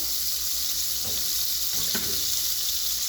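Ghee heats in a hot pot on the stove before meat goes in, a steady, loud hissing sizzle with a couple of faint metallic clinks partway through.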